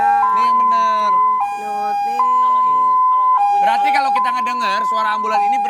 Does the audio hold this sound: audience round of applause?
no